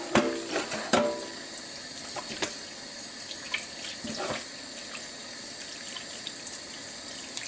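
Flour dough washed under a running kitchen tap, a steady close stream of water splashing into a sink with a few knocks and squelches of handling, no talking.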